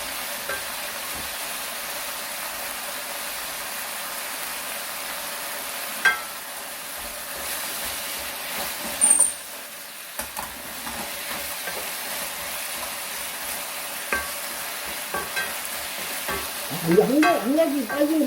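Pork and mushroom bulgogi stir-fries in a pan with a steady, close sizzle, broken by occasional scraping and stirring knocks, with no talking.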